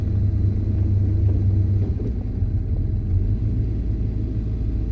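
A car engine fitted with Holley Sniper fuel injection idles in neutral, giving a steady low rumble with a faint uneven pulse that runs unbroken throughout, close and moderately loud.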